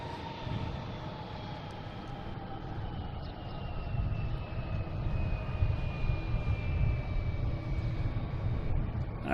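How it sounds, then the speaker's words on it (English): Airliners, including a Southwest jet, taking off and landing at Boston Logan International Airport: a distant, steady jet roar with a slowly falling whine that builds gradually, faint overall and free of speech. "That was a quick swap right there with Southwest taking off and this one landing right away."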